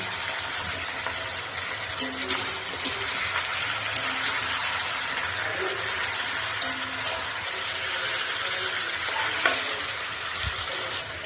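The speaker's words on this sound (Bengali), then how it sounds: "সব মাছগুলো দেওয়া হয়ে গেছে, আস্তে আস্তে করে এপিট ওপিট করে নেব।" Boal fish pieces sizzle in oil in a pan while they are turned gently. A continuous fry hiss is broken by occasional sharp clicks of the utensil against the pan.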